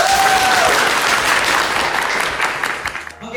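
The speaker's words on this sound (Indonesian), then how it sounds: "Yang kiri boleh minta tepuk tangannya?" Audience applause at an MC school event, a loud, dense burst of many people clapping, with a brief whistle-like tone at the start, fading somewhat toward the end.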